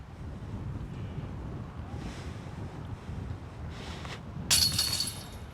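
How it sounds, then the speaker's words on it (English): Wind blows steadily across an outdoor disc golf course, a constant rushing buffet on the microphone with a few louder gusts near the end. "The wind's picking up, I'm sure you can tell"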